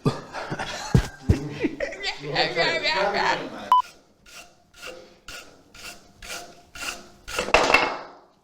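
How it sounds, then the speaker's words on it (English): A hand polishing brush buffs rainbow wax on a wooden surface, making repeated rhythmic rasping strokes close up, with a voice talking and laughing over the first few seconds. "Now to dry that off and to get the sheen, I buff it with a hand polishing brush."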